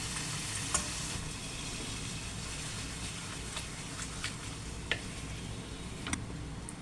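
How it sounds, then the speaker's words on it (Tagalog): Pork ribs pan fry in hot oil with garlic and onion, a soft continuous sizzle and crackle with a few small ticks and pops, steady and fairly quiet, no voices. "pwede na nating i-pan fry ang ating pork ribs"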